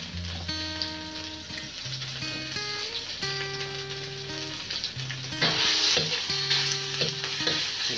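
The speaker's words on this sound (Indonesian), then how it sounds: "Goreng dulu sampai suka dia kering lah." Fishcake stir-fried in a pan for fried kueh teow, a steady sizzle with scraping and clinking of a utensil against the pan, music playing underneath throughout.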